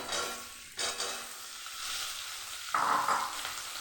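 Spine gourd dropped into about three spoons of hot white oil in a pan, a bright sizzle flaring up with a second louder burst near the end, alone without talk.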